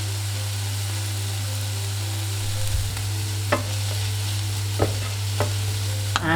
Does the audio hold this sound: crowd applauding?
no